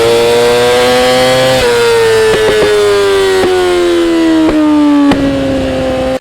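A 2020 Yamaha R6 with a full titanium exhaust and ECU flash holds a loud, high-pitched rev, the engine tone sliding slowly downward with sharp pops and crackles punctuating it.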